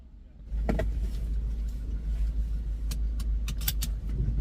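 A car parked beside the listener pulls away nearby, with a steady low engine rumble throughout and a few small clicks and rattles on top.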